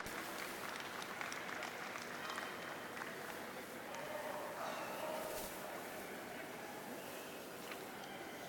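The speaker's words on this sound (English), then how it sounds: "A big round of applause, ladies and gentlemen, to our other shortlisted puppies." An audience at a dog show in Manchester applauds steadily, a dense, even patter of clapping that holds for several seconds at moderate distance under a hall's ambience.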